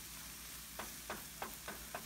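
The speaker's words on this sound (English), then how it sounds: "we got the onion and garlic going here" Onion and garlic sizzle gently in a frying pan, with a few soft scraping stir strokes repeating about every third of a second near the end; quiet and close, no voices.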